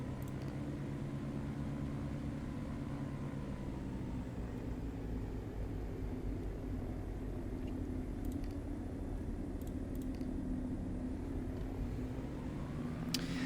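Steady, droning engine hum from a Diamond DA62 twin-engine piston aircraft taxiing, a constant low rumble heard from inside the cabin with a few faint clicks and no talking.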